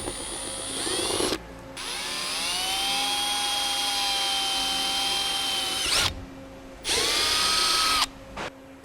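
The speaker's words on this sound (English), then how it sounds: "You'll need to drill these out. I'm using a 1/4-inch bit." A power drill with a 1/4-inch bit bores holes in a composite door panel for a 1969–1994 Porsche 911/964, giving several long, loud, steady whining runs separated by brief pauses.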